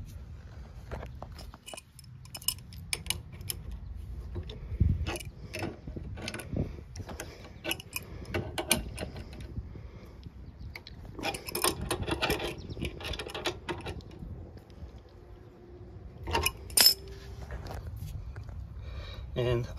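A tow hitch being tightened to stop it rattling, close intermittent metallic clicks, ratcheting and clunks scattered over low background noise.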